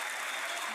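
An indoor pickleball championship crowd applauds a point, a dense wash of clapping that fills the whole brief moment.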